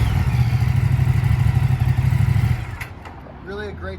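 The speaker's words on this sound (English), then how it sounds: "Sound for a stock exhaust." A 2023 Moto Guzzi V100 Mandello motorcycle with stock exhaust idles with a steady, throbbing low rumble for a couple of seconds, then cuts out and a voice starts talking.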